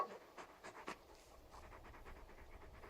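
Large dog panting in Final Fantasy XVI, soft quick breaths in a steady rhythm, close and quiet with no voices.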